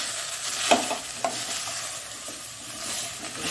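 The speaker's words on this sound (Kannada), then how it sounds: "ತುಂಡುಗಳನ್ನು ಇದರಲ್ಲಿ ಹಾಕೊಂಡು ಇದನ್ನು ಇದರಲ್ಲಿ ಸ್ವಲ್ಪ ಹೊತ್ತು ಫ್ರೈ ಮಾಡ್ಕೊಳ್ಬೇಕು" Cucumber pieces fry gently in a pan for a Mangalore-style cucumber sukka, with a soft steady sizzle and two brief clicks of a spoon stirring against the pan early on.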